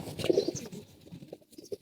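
Soft, low coos of young pigeons come in short bursts, fairly close, with some faint rustling and a few higher chirps in between.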